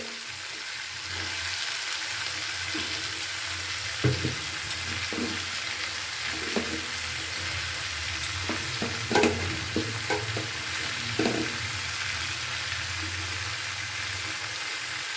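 Olives and jaggery are stirred in a pan for pickle, with a continuous soft sizzle and a spoon scraping and knocking at irregular intervals, close by, with no talk.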